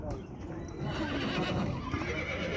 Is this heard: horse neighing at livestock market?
yes